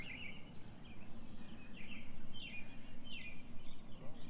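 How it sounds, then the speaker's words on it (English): Birds chirp in repeated short calls at a moderate distance over a clover lawn with bees active on it, with a low, steady outdoor hum underneath. "You can hear the birds and all the other activity going on, including the bees."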